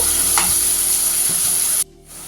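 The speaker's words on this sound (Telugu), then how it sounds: "బ్రౌన్ కలర్ వచ్చే వరకు ఫ్రై చేసుకున్నామండి ఆనియన్ అయితే" Onions frying in a pan until brown, a steady loud sizzle with a faint stir or clink, cutting off near the end to a quieter hiss.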